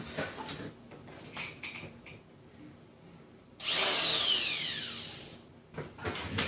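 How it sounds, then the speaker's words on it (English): An angle grinder cuts off a piece of a fake Hakko soldering station, a sharp loud whining grind for about two seconds after quieter handling clatter, with no talking. "I'm going to cut that piece off of the grinder."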